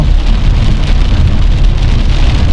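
Heavy rain pours down in Fang, Thailand, in a dense, continuous roar, loud and close, with no voices.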